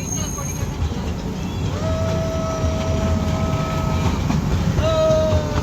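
A train rumbles past at a level crossing with steady rolling noise, a long high horn tone sounding through the middle and again near the end.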